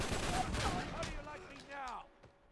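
A rapid burst of blind-fire gunshots in Uncharted 3 multiplayer crackles loudly and quickly fades as other game sounds take over, with a voice heard in the background.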